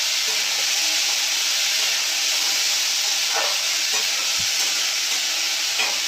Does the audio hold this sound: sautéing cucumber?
yes